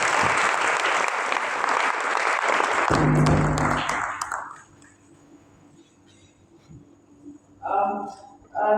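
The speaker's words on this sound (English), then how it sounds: "I think another clap will do, please." Audience clapping again after a speech at a gender-agenda event, dense and loud for about four seconds before dying away, followed by quiet room tone and a brief voice near the end.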